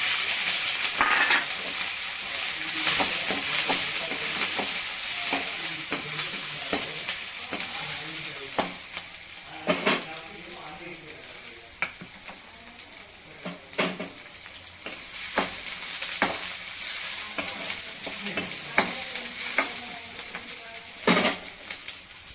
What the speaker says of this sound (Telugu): ఇప్పుడు పచ్చిమిరపకాయలు కొంచెం వేగిపోయినాయి లైట్గా